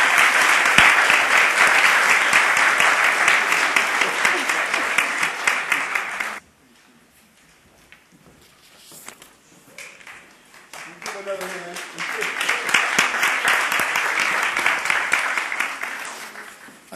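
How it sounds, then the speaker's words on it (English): An audience at a Brooklyn Black History Month celebration applauds loudly and steadily, pauses briefly, then breaks into another long round of clapping. "I'd like you to give a round of applause to Dr."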